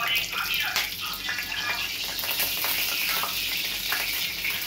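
Masala-stuffed brinjals frying in hot oil give off a steady, dense sizzle that fills the whole stretch, close and loud, with no pauses.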